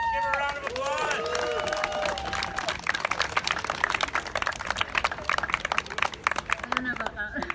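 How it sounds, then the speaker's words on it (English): Crowd at an outdoor protest in Edmonton, Alberta breaking into applause: dense clapping builds after a speaking voice and continues, with some cheering and murmur in the mix. "Give her a round of applause."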